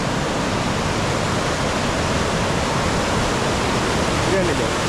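Arippara waterfall roars in a steady, dense rush of falling water, loud and unbroken throughout with no other sounds standing out.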